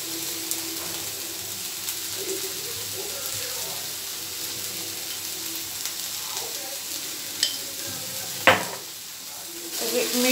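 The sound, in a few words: stirring potato sabzi with salt in a pan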